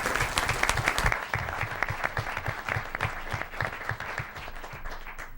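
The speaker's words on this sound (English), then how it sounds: "Let's give Joanna a nice big round of applause." A round of applause from the audience at a school board meeting, steady crowd clapping throughout, loudest in the first second and then continuing evenly at a moderate level with no voices.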